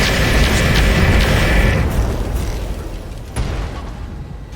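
Heavy mech weaponry fires in the RogueTech BattleTech video game, a big autocannon-style hit booming loudly at the start, then a rumbling tail that fades, with one more sharp impact near the end.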